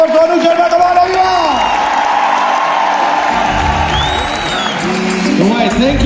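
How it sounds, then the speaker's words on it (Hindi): An audience at an award function breaks into loud, dense applause with cheering that fills the hall, while a voice carries on over the crowd noise throughout. "एक बार जोरदार तालियां कमाओ एवरीबॉडी"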